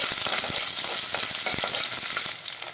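Onions sizzle and crackle loudly frying in a hot pan while a utensil scrapes and stirs through them in irregular strokes.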